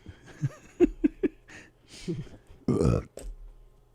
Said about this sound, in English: Every day you burp on the air now.